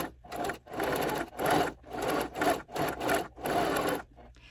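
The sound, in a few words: sewing machine stitching batting for a bowl cozy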